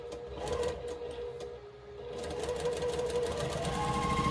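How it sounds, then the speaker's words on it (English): A sewing machine stitches quarter-inch seams along both sides of a line on a quilt block, a steady close whirring run that eases briefly midway before picking up again and running on. "I sew a 1/4 inch away from the line on both sides"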